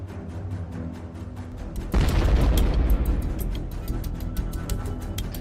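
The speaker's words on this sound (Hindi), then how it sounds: "छोटा ग्रेनेड छोटा धमाका करता है।" A sudden muffled boom from a small shuttlecock grenade dropped onto a tank bursts out partway through, then a rumbling roar with crackling pops as fire starts inside continues over steady background noise.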